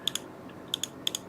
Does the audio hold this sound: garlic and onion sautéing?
no